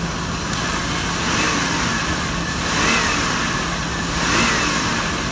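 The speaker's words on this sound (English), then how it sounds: "Let me give it a couple of revs now that it's warmed up." A car engine runs steadily with a loud, broad roar, swelling in a few gentle revs that rise and fall without any talking.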